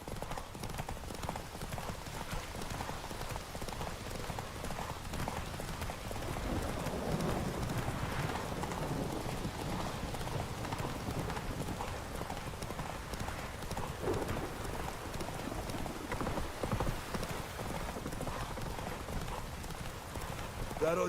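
Roach, Geralt's horse, gallops in a race in The Witcher 3, hooves drumming steadily throughout beneath game music and occasional speech.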